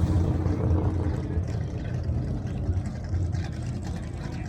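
A turbocharged LS-swapped Triumph Spitfire at a drag race event, its engine giving a steady, loud low rumble with a slight uneven throb, continuous and fairly close throughout.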